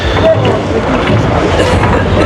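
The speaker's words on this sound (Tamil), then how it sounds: "அந்த பெரிய படகு வந்து இப்போ வலிக்கிடுது" A big boat's engine rumbles steadily on the water near Nainativu island as it moves in, a loud constant drone mixed with wind noise.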